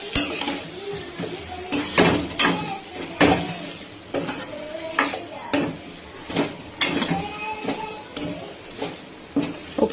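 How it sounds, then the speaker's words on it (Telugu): A utensil stirs potatoes with salt and chilli in a pan, giving repeated scraping and clattering strokes against the metal with a light sizzle underneath. A voice is faintly present. "ఒకసారి ఇలా కలిపేసుకుందాం మొత్తం."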